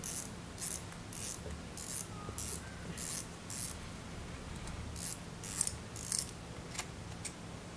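The spool of a Shimano Exsense BB 3000 HGM spinning reel, a surf-fishing reel with plastic internal gears, is opened and turned; close, repeated ratcheting clicks come in bursts over a steady mechanical whir, with no talk.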